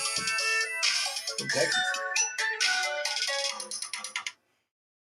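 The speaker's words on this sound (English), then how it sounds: "Hey, we got a phone call" A telephone rings loudly and close with a bright electronic ringtone melody that repeats in pulses for about four seconds before cutting off. Someone says a few words over the start of it.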